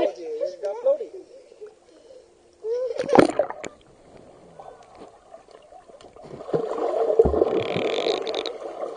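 A child kicking and splashing while swimming in a pool, bursts of nearby water splashes and sloshing interrupted by an adult voice speaking encouragingly over the water.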